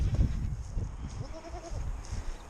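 A goat bleats a few times with a wavering, quavering call, faint and slightly distant, over low rustling and handling noise on a farm on a rainy day.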